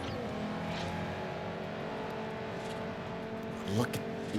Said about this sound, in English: Listen to that V8, man.